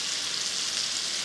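Chicken tenders fry in an iron skillet with a loud, continuous crackling sizzle that stays even from start to finish, with no voices.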